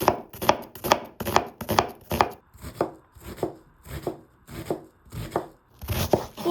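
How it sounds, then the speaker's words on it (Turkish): A knife finely chops a large peeled onion on a board, a steady run of about a dozen even, close, crisp thuds, with no speech. "Bir büyük boy soğanın hızlıca kabuklarını soyuyoruz. Ve ardından ince ince doğruyoruz."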